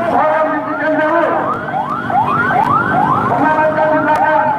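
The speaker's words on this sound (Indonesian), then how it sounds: "Lihat yang belakang, kemacetan. Dan ada ambulan di belakang." An ambulance siren wails in repeated rising sweeps through a traffic jam during a street demonstration in Jakarta, loud and steady over crowd and traffic noise, with someone speaking over it.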